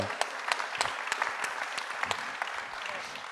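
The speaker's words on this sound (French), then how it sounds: "Est-ce qu'on peut les applaudir, ces stations" An audience at a conference on hydrogen mobility applauds, a sustained crowd clapping with distinct sharp claps standing out throughout.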